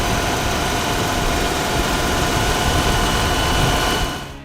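A Mazda 12A rotary, a 1.1-liter Wankel engine in a 1970s Japanese car, runs with a loud, steady, dense buzzing drone that holds constant before fading at the end.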